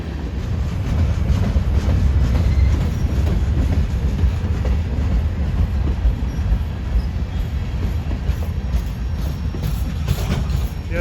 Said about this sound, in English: Yeah, that train is slowing down.